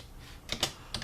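A few quick keystrokes on a computer keyboard, three soft close clicks in about a second, typed while entering numbers for a math problem.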